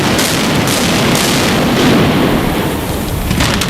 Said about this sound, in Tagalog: Pagkatapos nito, pinasabog na ang hotel para gibain.